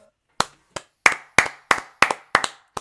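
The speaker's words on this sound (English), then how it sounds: "round of applause" A small, brief round of hand clapping, about eight sharp close claps in an uneven rhythm, alone with no talk.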